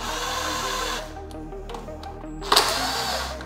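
A power tool or powered socket driver whirs close up while loosening hose clamps on an 11th generation Honda Civic airbox, stopping after a second, then a few faint clicks before a second short burst.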